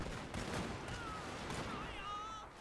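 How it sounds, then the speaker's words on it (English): Musket volleys from Total War: Fall of the Samurai crackle in distant, overlapping bursts of flank fire. The faint battle noise has a few brief tonal calls over it. "Devastating flank fire coming in."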